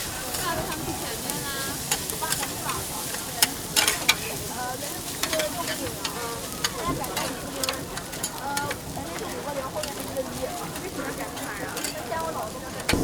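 Rice with mixed mushrooms and ham is stir-fried in a wok at a street stall in Kunming, Yunnan, a continuous loud sizzle broken by rapid scraping and clanking of the spatula, with voices in the background.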